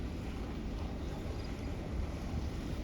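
Wind blows steadily across a bay fishing pier at a state park, a continuous broad rushing roar buffeting the microphone with no pauses.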